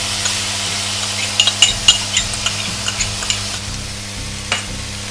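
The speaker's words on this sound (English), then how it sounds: "I'm gonna throw in my sauce." Sauce hits the hot pan while beef chow fun is stir-fried, giving a continuous close sizzle punctuated by sharp metallic clinks and scrapes of a spatula in an uneven rhythm.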